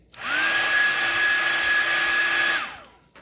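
A steady high-pitched whirring drone of a hair dryer runs for about two and a half seconds, then winds down and stops.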